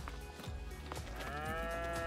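Cows low inside a barn in Farming Simulator 22, several overlapping moos that swell and fade close by, with a long drawn-out call rising at the end.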